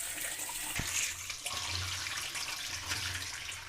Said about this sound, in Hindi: ये दोबारा हम इस बॉल में डालेंगे और साथ ही पानी शामिल करेंगे इस तरह।